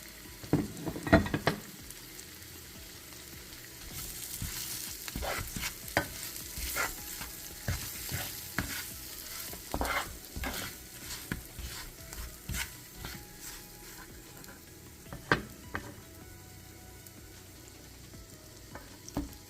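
Spices sizzle in a pan while being stirred for coconut curry karela, with repeated scraping strokes over a soft frying hiss, close and fairly quiet, with no talk.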